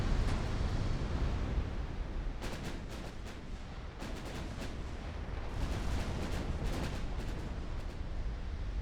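Naval secondary guns firing in Ultimate Admiral: Dreadnoughts, a steady low roar of sea battle punctuated by clusters of sharp distant cannon reports in irregular volleys.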